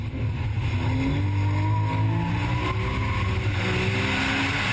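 Porsche 997 GT3 flat-six screaming at high revs on the Lédenon race circuit near Nîmes, a loud, sustained in-car roar with steadily rising engine pitch through the gears.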